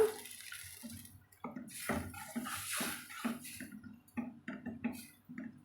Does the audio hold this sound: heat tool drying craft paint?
no